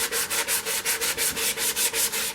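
Sandpaper rubs rapidly back and forth on a green poplar turned bowl, about ten even, close strokes in quick succession, each a harsh scratchy swish, with no speech.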